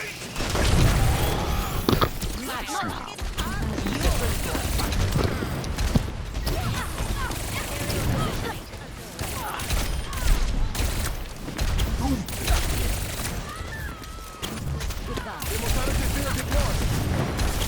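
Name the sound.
Tracer gunfire from the video game Overwatch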